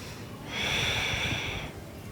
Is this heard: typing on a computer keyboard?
no